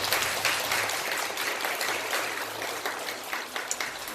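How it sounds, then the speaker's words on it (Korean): Steady applause from a church congregation during a Sunday worship service, broad and continuous for the whole stretch with no talking over it. "우리 크게 박수해 주시기 바랍니다"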